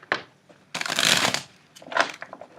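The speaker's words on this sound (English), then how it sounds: "let's shuffle 3 times." Tarot cards riffle and slap together in a few short bursts, crisp and close, with pauses between each shuffle.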